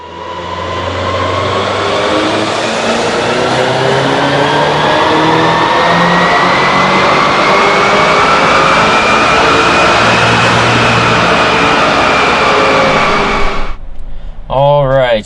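A tuned Volkswagen GTI with an EQT Vortex setup and MPI switched on pulls hard on a dyno, its engine rising in a long, loud, steady sweep of rising pitch before cutting off abruptly, followed by a brief voice.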